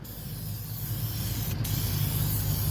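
A spray coat goes onto a peeling wheel rim: a continuous close aerosol hiss with one very brief break, steady and loud, with no talking.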